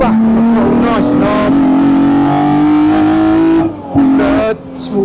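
Engine of a 1972 BMW CSL race car accelerating hard on track, a loud, steady rising roar climbing through the revs with brief drops at gear changes, close inside the car while someone talks over it.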